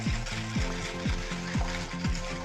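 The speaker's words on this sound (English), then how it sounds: "for the minute and a half that I'm whisking it" Ingredients whisked by hand in a bowl for a Jewish cooking dish, beaten to a creamy consistency, giving a steady, close scraping rhythm with regular strokes about every half second; no voices.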